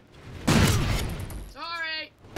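A short burst of gunfire in Call of Duty: Ghosts, one loud rattling volley close up, followed by a brief voice.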